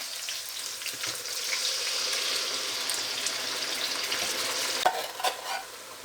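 Water poured into a hot pan of turnips for a chicken and turnip curry, giving a steady hiss and sizzle with faint stirring and scraping throughout, ending in a few brief clinks.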